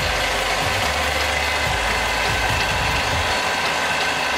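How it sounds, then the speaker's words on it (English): A lathe runs while superconductors are polished on it, a loud, constant mechanical roar with a rumbling low end and a slight irregular rattle, steady from start to finish with no talk. "he's on the lathe, polishing up some superconductors"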